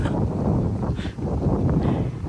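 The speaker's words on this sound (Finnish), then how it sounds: "Varmaan tuulee vähän, en tiedä kuuletteko mitään" Wind blows at the Hietasaari seaside, a loud continuous low rumble of gusts buffeting the microphone with little let-up.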